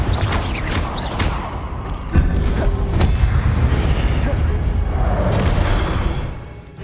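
Fiery spell blasts and booming impacts from Confringo in Hogwarts Legacy combat, a dense run of thuds and bursts with a sharp strike near the middle and sustained rumble throughout, loud and continuous.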